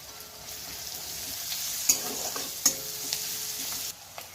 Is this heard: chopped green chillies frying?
yes